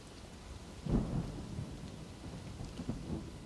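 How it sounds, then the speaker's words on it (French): A deep rumble of thunder swells near the start, followed by softer rolling rumbles beneath a steady background hiss, with no talking. "Écoutez l'orage."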